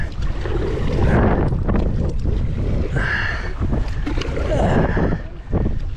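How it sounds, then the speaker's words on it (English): Loud, steady wind buffeting the microphone, a constant roaring rumble with gusts rising and falling, no voices. "Should be less wind right here."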